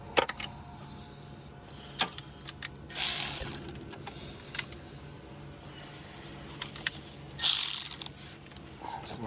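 A hand ratchet loosens bolts on a 2004 Nissan Sentra during a thermostat job, with rapid clicking bursts and two louder stretches of ratcheting, close and with no talk.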